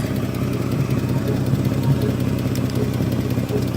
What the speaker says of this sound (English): There's the flex pipe that's leaking.